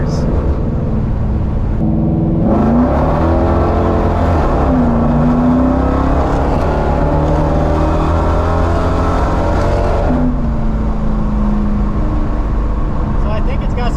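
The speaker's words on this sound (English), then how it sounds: "we're just trying to get the exhaust note." A muscle car fitted with cherry bomb mufflers idles and revs with a loud, rumbling exhaust note that rises and falls in a few throttle blips, heard up close over a steady low drone.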